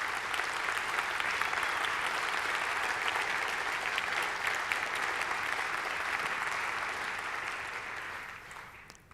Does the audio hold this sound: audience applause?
yes